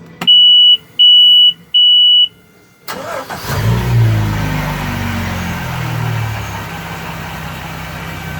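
Three loud electronic beeps sound before a Volvo 4.3 liter V6 225 hp marine engine in a 2015 Regal boat cranks and fires, settling into a steady rumbling idle with a slight rev.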